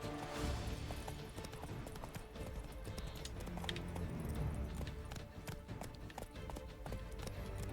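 Roach, Geralt's horse in The Witcher 3, clip-clops steadily across the ground in a continuous rhythmic run of hoofbeats, fairly close and loud, with game ambience beneath.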